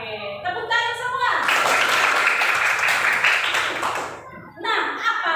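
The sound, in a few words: class clapping hands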